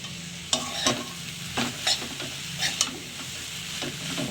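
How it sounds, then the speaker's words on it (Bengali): Maggi noodles fry and get stirred in a pan, a soft steady sizzle broken by several scraping, clinking strokes of the spoon against the metal, close and alone. "আমি এরকম বেশিরভাগই ম্যাগি ভাজাই করি।"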